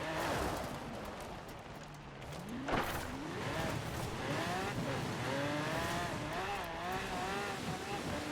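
Engine drone and gliding pitch sweeps of a car driven in the racing game Forza Horizon 4, with occasional tyre squeal, loud and continuous throughout with game music faintly underneath.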